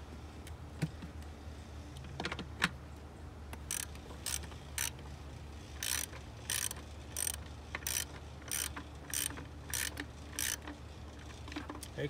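A ratchet with an extension and 12mm deep socket works bolts during an Infiniti G37 valve cover gasket replacement, giving a close series of short rapid clicking bursts repeated in a steady rhythm.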